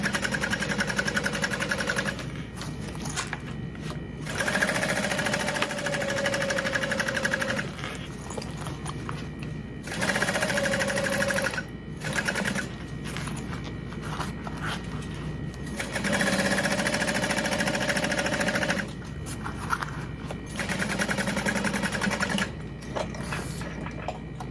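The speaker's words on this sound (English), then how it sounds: "I am gonna go ahead and sew my main panel a little bit smaller." Sewing machine stitching a bag panel, running in several bursts of steady mechanical whirring and clatter separated by short pauses, close and loud with no talk.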